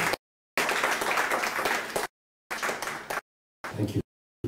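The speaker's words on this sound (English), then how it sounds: "Round of applause to the company." Audience at a Blackmagic Design conference and expo in Kenya claps for the company, bursts of applause broken by abrupt silences.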